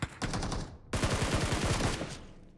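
Rapid automatic gunfire in the mobile battle royale game PUBG Mobile on the Yasnaya sandy area, two close, loud bursts separated by a brief pause, the second one longer.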